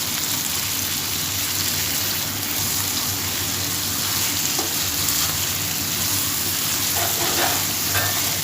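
Mutton frying in hot oil in a pot for Hyderabadi dum biryani, giving a steady dense sizzle that stays constant and fairly loud throughout, with no one talking.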